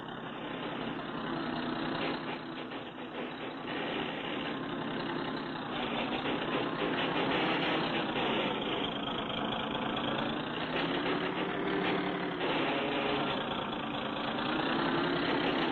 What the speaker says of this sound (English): That car will pull us right up.